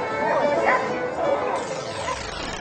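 Dogs yelp and whimper in short, high bursts at a concert staged for dogs and their owners, heard fairly close, with a person talking over them.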